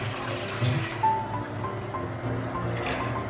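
Water pours into a cooking pot in a home kitchen, a soft, continuous trickle with light dripping and splashing that stays fairly quiet and close.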